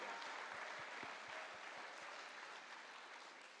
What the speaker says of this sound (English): Can we have a round of applause for those first 3 speakers?